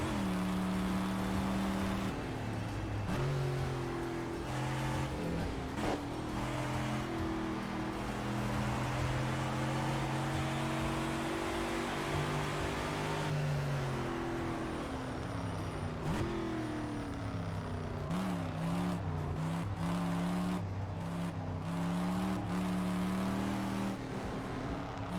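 A video game car engine revs and wails through a long drift, pitch rising and falling as the throttle is worked, with rough tire-like noise underneath; steady and fairly distant in level, with no talking.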